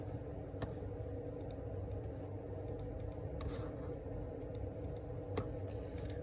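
Equations are keyed into a graphing calculator, a faint, irregular run of small button clicks over a steady background hum.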